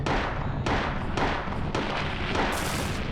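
Gunfire from a Silent Hill game plays as a string of heavy, booming shots, about five of them at a steady pace. Each shot is loud and close and leaves a short decaying tail, with no voices.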